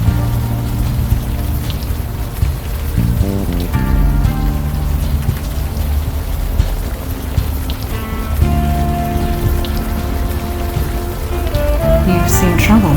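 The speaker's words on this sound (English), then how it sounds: "Still raining." Rain falls in the video game Unavowed, a steady hiss of drops on surfaces running throughout beneath a soft musical score, with no clear voices over it.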